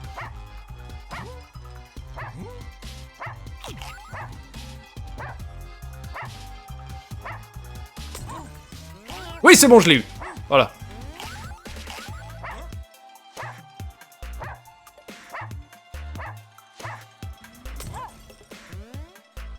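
Dogs in the video game Russian Subway Dogs bark, yip and whimper in rapid repeated bursts alongside game sound effects and a loud crash near the middle, with someone briefly speaking French.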